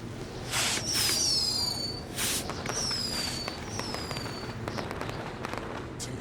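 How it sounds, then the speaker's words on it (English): Fireworks go off in the WWE 2K20 video game: several rockets whistle upward with falling tones and then pop and crackle in a quick, loud sequence with little else around them. "we'll get to see some cool fireworks"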